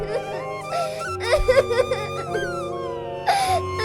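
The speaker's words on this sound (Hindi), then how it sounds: "अरे ये इतने घने जंगल में कौन रो रहा है भला?" A woman weeps in a dense forest as a story sound effect, with close, wavering sobs and whimpers rising and falling over soft background music.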